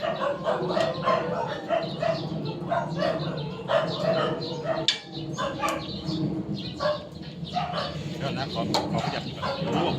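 A neighbour's dog barks repeatedly from nearby, a steady run of yaps and woofs, while someone talks over it and a rooster or other birds call faintly in the background.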